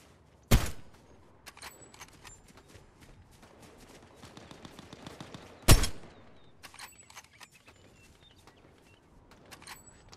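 Two loud, sharp gunshots several seconds apart in Fortnite, each with a quick decaying tail, between them softer clicks, rattles and game movement sounds, close and with no talking.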